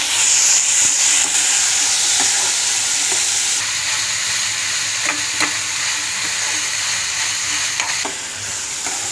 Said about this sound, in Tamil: இதையும் நல்லா போட்டு வதக்கிக்கோங்க